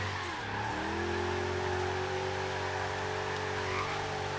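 A jeep with a rally suspension and a drift build in the game Forza Horizon 3 holds a loud, sustained engine drone at steady high revs. The pitch sweeps briefly, then settles into a constant roar with no talk.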